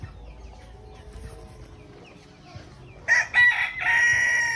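On a small chicken farm, quiet clucking and faint background sounds give way to a loud, close rooster crow repeated in two or three bursts near the end.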